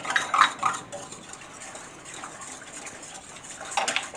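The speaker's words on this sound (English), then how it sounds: "Now let's take our 7 grams of yeast and put that right in there too. I'm going to whisk that up so it's nice and dissolved." A whisk clinks steadily against a bowl while dissolving 7 grams of yeast into liquid for bread dough, with light sloshing and a few louder taps at the start and end.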